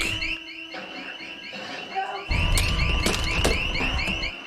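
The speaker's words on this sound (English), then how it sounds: "Alarm's gonna go off." A security alarm goes off as a safe is opened in a Walking Dead episode, a repeating electronic beeping tone that grows busier and louder midway, with voices heard over it.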